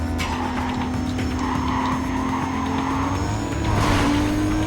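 An engine drones steadily at high revs in the Need for Speed Carbon racing game, with tire squeal and a surge of louder noise near the end, continuous and close.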